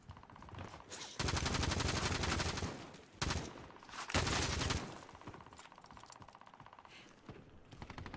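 Gunfire in the video game Warzone: long rapid automatic bursts of several seconds each, separated by short pauses, with quieter scattered shots trailing off afterward.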